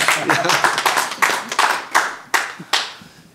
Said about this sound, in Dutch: jullie krijgen ook een warm applaus van de 3 mannen achter jullie